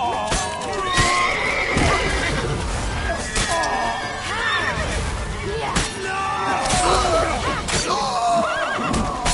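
A horse whinnies and neighs repeatedly in the Witcher 3: Wild Hunt video game, with hoof clatter and busy game sound around it and some voices mixed in.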